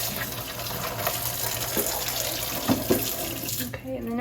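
Tap water runs steadily from a faucet into a sink, rinsing soap off both sides of a Cricut cutting mat, with brief splashes and knocks as the mat is moved under the stream before the flow cuts off near the end.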